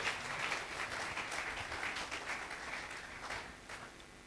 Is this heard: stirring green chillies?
no